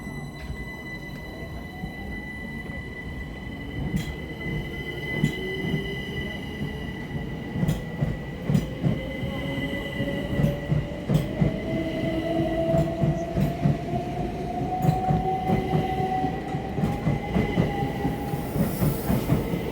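A five-coach passenger train rumbles steadily through South Bermondsey station with rhythmic clickety-clack from the wheels and a rising motor whine, loud and close, with no voices.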